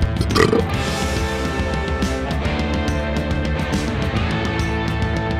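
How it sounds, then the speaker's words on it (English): A person burping in a long, sustained belch with a deep, resonant, buzzing tone, loud and close, with a brief sharper onset near the start and no speech. "burp, burp, burp."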